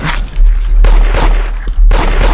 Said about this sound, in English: You shot your own friend.